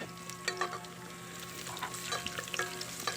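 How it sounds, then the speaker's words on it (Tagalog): Chopped onion and garlic sautéing in hot oil for a Bisaya-style pork chop and pineapple dish, a steady close sizzle with occasional spoon scrapes and stirring clicks, no voices. "At igisa na po natin ang bombay at saka bawang."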